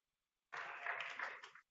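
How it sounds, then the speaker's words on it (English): A short burst of audience clapping and applause at a Kubeflow and Kubernetes tech talk, starting abruptly and holding steady for about a second before cutting off, faint and somewhat distant. "Give yourself a round of applause."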